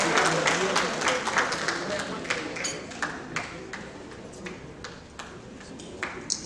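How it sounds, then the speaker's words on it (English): Audience applause at an evening political event welcoming APC women leaders, a dense patter of many hands with sharp claps standing out, steady throughout and fading slightly toward the end. "Make a welcome with a round of applause"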